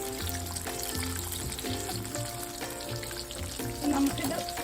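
Jackfruit fritters (chakka pori) deep-frying in hot oil give a steady, dense sizzle and crackle close up, with a brief bubbling swell near the end.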